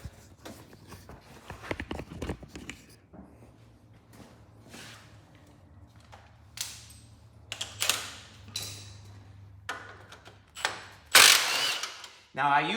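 Ratcheting clicks of a half-inch impact socket wrench loosening four rusty 5/16 bolts from the front of a Cub Cadet Spread Frame tractor dash, with intermittent mechanical clatter and bursts of scraping metal, close and moderately loud, no talk.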